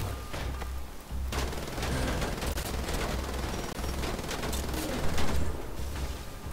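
Rapid gunfire in the shooter Wolfenstein: The Old Blood, dense bursts of shots crackling almost without pause, loud and close, with a steady low rumble beneath the whole stretch.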